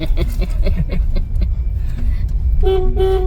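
Vehicle horns toot repeatedly in busy road traffic, short bursts early on, then two longer, louder honks near the end over a low engine rumble.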